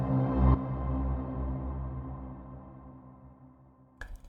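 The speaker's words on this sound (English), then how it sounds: "you clearly hear this new reverb tail" A sound design reverb tail swells and slowly decays over about four seconds, smooth and ringing, before a sharp new hit cuts in near the end.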